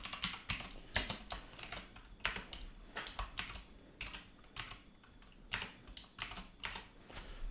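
Fingers type on a computer keyboard in quick, irregular bursts of sharp clicks and key taps, close by and fairly quiet, with short pauses between runs of keystrokes.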